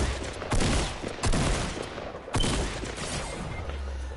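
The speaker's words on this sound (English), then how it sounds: "Damn, he shotgunned me." Shotgun gunfire in Fortnite, three loud close blasts spaced about a second apart over continuous game noise, no talk.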